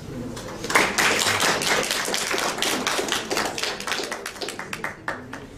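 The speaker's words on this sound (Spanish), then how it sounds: "La recibimos con cariñosos aplausos." Audience applause welcoming a speaker to a lecture, a dense wash of many hands clapping that starts abruptly, stays loud and steady, then thins into scattered individual claps near the end.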